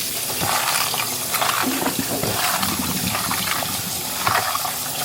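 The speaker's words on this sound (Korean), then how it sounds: "미리 썰어놓은 양배추도 간단하게 물로만 세척해 주었습니다." Tap water runs steadily over pre-cut cabbage being rinsed in a kitchen sink, a loud continuous splashing stream with faint shifting as the vegetables are moved under it.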